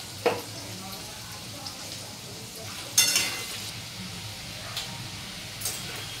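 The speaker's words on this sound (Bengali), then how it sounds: "এবার আলুগুলো ভাজা হয়ে গেছে," Sliced potatoes fry in hot oil, giving a soft, continuous sizzle. A few sharp clinks and scrapes of a utensil stirring the pan cut in now and then, and no one speaks.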